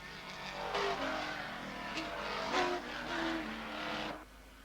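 1980s touring race cars, including Volvos, roar past on a circuit at moderate distance, with engine notes rising and falling as several cars pass in quick succession before fading.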